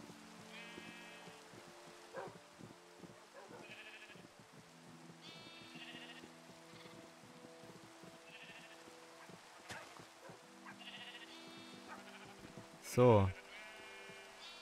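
Sheep in the video game Minecraft (FTB Revelation) bleat repeatedly, short wavering calls scattered across the scene over soft background clatter, with a brief louder burst near the end and someone speaking.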